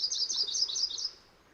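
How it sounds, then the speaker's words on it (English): Yellow-rumped warbler giving its usual short, weak song: a quick run of high, thin trilled notes lasting about a second, fairly close and clear, then fading to quiet. "Yellow-rumped warbler. These guys are all over the state, but because they also have a short, wimpy, variable song"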